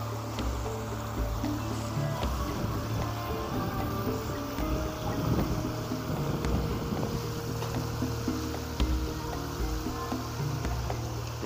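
Swift water current rushing through a pool water park at Ponggok, Klaten, a continuous broad wash of churning water with a steady low rumble and no voices.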